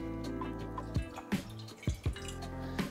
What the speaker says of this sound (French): Dans une poêle, commencez par verser 150 ml d'eau